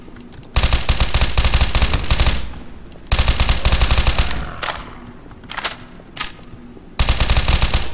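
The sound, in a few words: machine gun fire in Garry's Mod video game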